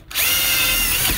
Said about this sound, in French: en espérant que ça va aller avec ma petite perceuse